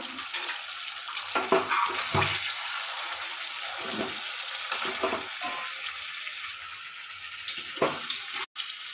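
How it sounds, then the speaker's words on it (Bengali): Chicken and potatoes frying in a pan as they are stirred, a steady sizzle under repeated scraping and clattering strokes of a spatula, close and fairly loud. "আসুন ঢাকনাটা খুলে একবার নেড়ে নিই"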